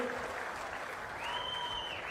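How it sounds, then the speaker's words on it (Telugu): An audience at a public meeting gives sustained, fairly distant applause, with crowd voices and a faint tonal hum mixed in. "గట్టిగా చప్పట్లు కొట్టి అభినందించండి."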